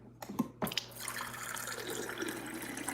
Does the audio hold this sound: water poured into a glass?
yes